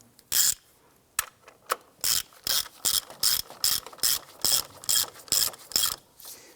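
Ratchet snugging down the transmission speed sensor bolt on a 2005-2007 Ford Five Hundred: close, dry clicking bursts repeated about a dozen times in an even rhythm, with brief pauses between strokes.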